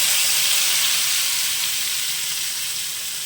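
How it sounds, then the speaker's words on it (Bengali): A paste of black cumin, green chilli and salt hits hot mustard oil left from frying fish, giving a loud, steady sizzling hiss that fades slightly over a few seconds, close up and alone. "এই মাছ ভাজার তেলেই দিয়ে দিচ্ছি কালো জিরে কাঁচা লঙ্কা লবণ পেস্ট"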